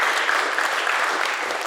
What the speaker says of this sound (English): I need to applaud for her.